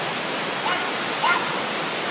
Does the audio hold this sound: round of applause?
no